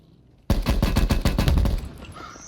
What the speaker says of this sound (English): You can see I just kind of burst firing him